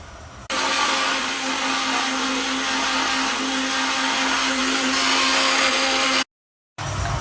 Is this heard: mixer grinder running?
yes